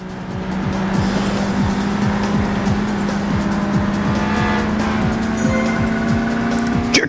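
A race car in Burnout 2: Point of Impact drifts with a sustained engine drone and long continuous tire squeal, loud and close throughout, with rhythmic clicking ticks across the stretch.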